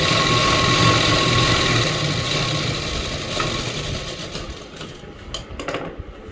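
A sewing machine stitches a palazzo seam with a half-inch margin, a steady fast mechanical whirr close by that slows and breaks into a few stuttering bursts near the end.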